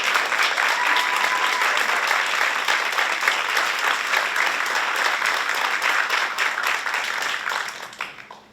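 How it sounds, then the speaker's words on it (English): Sustained applause from an audience at a Tri-M music honor society induction ceremony honoring performing arts staff, steady and dense throughout before tapering off at the end. "please take a moment to give Mr. Dooley and all the performing arts staff a round of applause"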